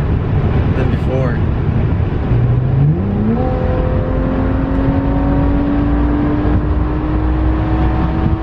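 A BMW F10 535i running on E85 fuel accelerates under load, a loud cabin-side engine drone rising steadily in pitch through the gears with a continuous whir, while a person talks over it.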